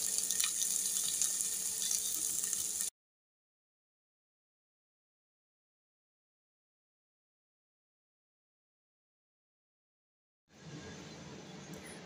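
Turmeric- and salt-rubbed potatoes go into a hot oil tempering with asafoetida and sizzle in a steady hiss, cutting off after about three seconds, leaving a long silence, then returning softly near the end.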